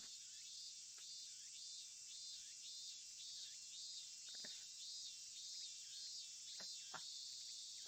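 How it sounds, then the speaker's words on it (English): Cicadas shrill in a steady, high, continuous buzz on a hot Sunday afternoon in a visual novel game scene, with a few faint clicks and taps beneath, and no voices. "The deafening silence was broken only by the cries of the cicadas."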